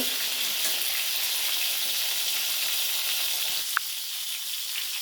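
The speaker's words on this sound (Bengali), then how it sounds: "সমস্ত পটলগুলো আমি খুব সুন্দর করে ভেজে নেব" Pieces of pointed gourd frying in hot oil, a steady dense hiss and crackle that runs unbroken and fairly loud, close by, with a brief clink near the end and no talk.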